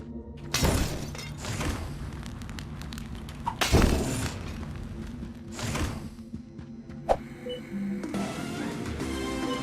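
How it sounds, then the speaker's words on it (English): Molotov cocktails shatter and burst into flame in the bug-exterminating game Kill It With Fire 2, several loud glass-breaking crashes with whooshing fiery blasts spaced over a steady rumbling game soundscape, no talking. "kill spiders with Molotov explosions"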